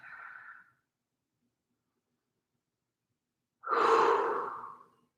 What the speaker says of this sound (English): Keep breathing gently.